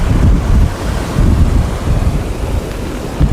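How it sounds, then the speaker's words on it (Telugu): Floodwater from heavy rain rushes as a stream past village fields: a loud, continuous low roar and wash, with some wind buffeting on the microphone and no voices. "అటు సైడ్ పొలాల నుంచి అటు సైడ్ వెళ్ళిపోతుంది వాగు"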